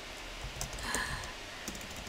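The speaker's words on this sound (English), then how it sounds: "I'm still typing in Chinese" Keys tapping on a computer keyboard while someone types in Chinese during an online language-learning session, a quiet steady patter of soft clicks with a slightly louder burst near the middle and no talking.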